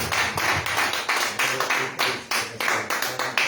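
A church congregation clapping strongly in praise of Jesus Christ: rhythmic, repeated bursts of hand claps in a steady beat, fairly close, with faint musical tones beneath.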